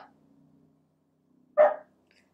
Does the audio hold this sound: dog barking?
yes